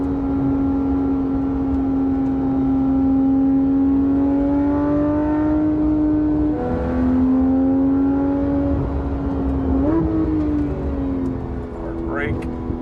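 A Porsche 991.1 GT3 RS engine holds a steady, loud drone at about 7,000 RPM in third gear on the Cherohala Skyway mountain road, with pitch shifting slightly on throttle changes, and a voice talks over it.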